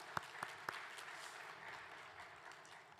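A church congregation claps together at a Sunday afternoon worship service, a steady faint wash of applause with a few sharper claps near the start, heard from a distance in a large room.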